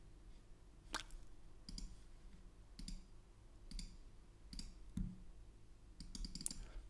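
Computer mouse buttons clicking in a quiet room, six or seven sharp, distinct clicks spaced roughly evenly about a second apart over a low steady hum, with no speech.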